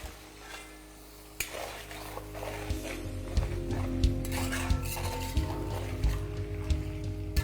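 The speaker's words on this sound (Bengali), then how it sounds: "এই মাটনটাকে আপনাদের ততক্ষণ মেশাতে হবে যতক্ষণ না মাটনের কালারটা একটু ব্রাউন হয়ে যাচ্ছে" A spoon stirs chunks of mutton in a cooking pot while they brown, with repeated clattering scrapes and knocks against the metal and a low steady background hum running underneath.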